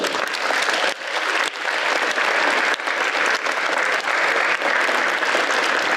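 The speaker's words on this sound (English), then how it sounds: "I want to give a round of applause to our staff here in the Palmer School System" A school assembly crowd at a Veterans Day event claps for the staff, sustained dense applause from many hands filling a large hall, loud and even throughout with no talk over it.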